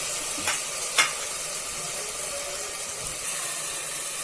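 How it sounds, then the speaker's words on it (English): Onions sizzle steadily in a pan with ginger, garlic and green chili paste, a constant fine hiss broken by a couple of brief scraping stirs near the start, with no voices. "Fry them until the raw smell of ginger garlic paste goes off."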